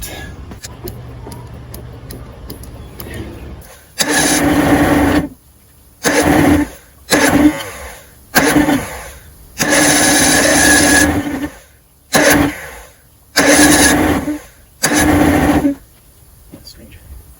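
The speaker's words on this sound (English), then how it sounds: "try to start the engine." A 1994 Evinrude 90 hp outboard engine on a Four Winns boat, with a power loss fault, is primed and cranked in about eight loud, separate bursts of a few seconds each, with quieter pauses between them.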